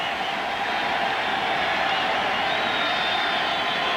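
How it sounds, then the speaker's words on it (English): Stadium crowd at a 1997 Seattle at New Orleans NFL football game, a broad steady roar swelling slightly with excitement, distant and continuous without distinct cheers. "Crowd for the first time getting excited, a little bit at least."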